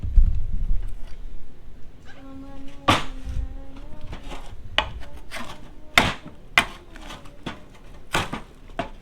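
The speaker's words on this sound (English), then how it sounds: "I can scrape in the direction I want to scrape" Someone scrapes residue off a Honda XR100R motorcycle part in a series of sharp, close rasping strokes and knocks at an uneven rhythm, with faint background noise between them.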